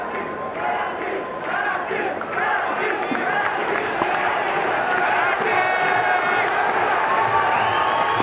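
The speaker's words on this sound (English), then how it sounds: "Listen to this crowd now." Crowd at a Pakistan Super League cricket playoff, Karachi Kings against Islamabad United, roaring and cheering steadily with whoops and shouts, a dense, loud wash of stadium noise that holds throughout, with a commentator's voice faintly underneath.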